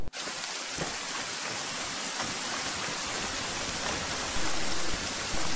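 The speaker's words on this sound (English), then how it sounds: "I think it's the rain on the helicopter." Steady rain pours over a helicopter in ARMA 3, a dense, even hiss that stays loud and unbroken throughout with no talk.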